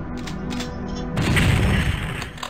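Rocket launcher firing in Doom 64: a loud booming blast with crashing debris that swells after a quieter stretch of game noise and holds for over a second before tailing off.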